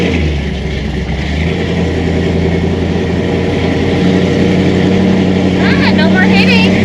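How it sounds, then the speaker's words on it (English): A 1964 Chevy II drives along with a steady mid-range engine drone and a rattling exhaust, continuous and close throughout, with a voice talking over it. "The exhaust rattles, we can deal with that."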